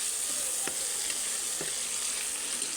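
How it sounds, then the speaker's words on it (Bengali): Chopped onion, green chili and tomato sizzle in a pan with a steady close hiss, punctuated by a few sharp clicks of a spoon stirring against the metal; no talking. "তো এখানে আমি পেঁয়াজ কুচি তারপরে কাঁচামরিচ কুচি টমেটো কুচি এগুলো দিয়ে দিচ্ছি এগুলো একটু ভালোভাবে যখন কষিয়ে নিব"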